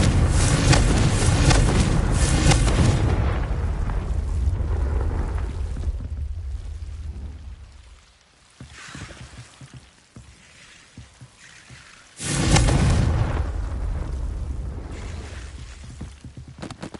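The Confringo blasting spell in the video game Hogwarts Legacy goes off in a loud, rumbling explosion that fades away, followed by a quieter lull and then a second heavy blast that slowly decays.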